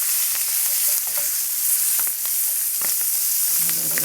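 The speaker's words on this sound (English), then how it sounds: "A little bit of bacon still splattering in that pan." Duck livers and bacon fry in a pan with a loud, steady hiss and sizzle, scattered crackles and pops spitting up close, without talk.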